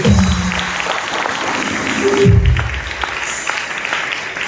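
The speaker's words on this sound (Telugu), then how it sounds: "దగ్గరగా చప్పట్లు కొట్టి ప్రభువుని మహిమపరచండి" Church congregation clapping at a New Year's Eve watch night service, a dense, loud, sustained round of applause filling the hall, with a brief low tone sliding through partway.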